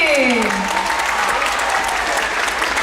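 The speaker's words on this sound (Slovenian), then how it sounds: "Pa en aplavz se spodobi." Audience applause at a Christmas party disco dance performance, a steady dense clapping that fills the whole stretch with a few raised voices over it.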